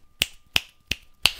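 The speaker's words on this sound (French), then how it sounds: "Là, c'est le bruit de mes ongles qui applaudissent aussi." Fingernails click together four times at an even pace, each a sharp, bright, close tap standing alone in quiet.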